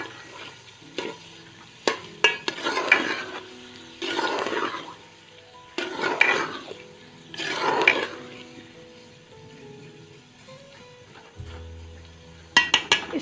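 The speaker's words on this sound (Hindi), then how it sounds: "और जो चिकन है वो हम इसमें डाल देंगे और अच्छे से इसको हम फ्राई करेंगे।" Chicken pieces fry in a pot with masala paste for deghi palak gosht, a steady sizzle broken by repeated bursts of stirring and scraping, close and fairly loud, ending with a lid clank.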